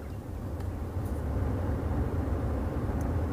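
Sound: Rolls-Royce Ghost ventilation system fan

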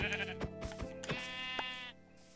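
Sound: sheep bleating in Minecraft video game

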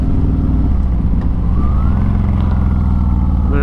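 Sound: S&S 128 engine Harley Softail Fat Bob accelerating in gear

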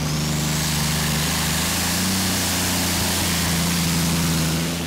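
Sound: pulling tractor engine during tractor pulling

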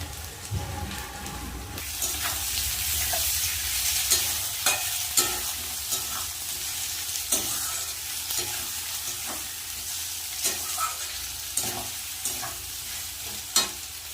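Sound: chopped tomatoes and green chillies frying in a pan

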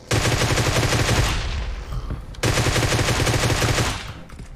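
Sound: gunfire in video game PUBG Mobile

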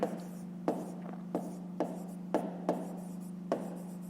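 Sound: writing by hand

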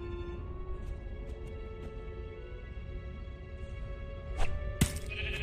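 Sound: sheep bleating in the video game Minecraft: Story Mode

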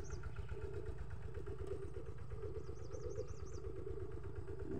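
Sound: two-wheel walking tractor engine plowing a rice field

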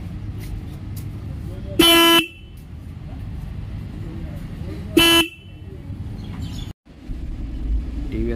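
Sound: TVS Ronin motorcycle single horn being pressed

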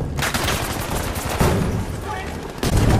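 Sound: PIAT launcher shot in video game Battlefield 5

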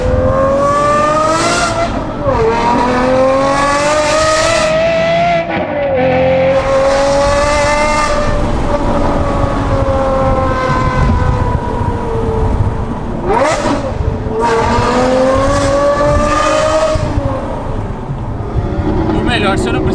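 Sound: Aston Martin V12 manual engine roaring, Jeep Renegade following

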